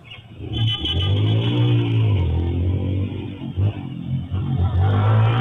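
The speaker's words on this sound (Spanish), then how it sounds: "Mire cómo le lleva ese motor a ese hombre" A vehicle engine revs hard nearby, loud and continuous with pitch swinging up and down through repeated throttle pushes and a few brief dips, with no voices heard.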